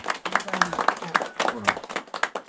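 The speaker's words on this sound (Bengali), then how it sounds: "হাততালি, জোরে হাততালি হবে জ্যোতিদির জন্য" A group claps together for a small welcome gift, with quick overlapping claps in a lively burst under voices talking across the whole stretch.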